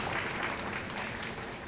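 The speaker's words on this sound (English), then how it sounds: "Round of applause for them," A studio audience at a televised singing competition gives a brief burst of applause for an airline sponsor, dense clapping heard alone and fairly close.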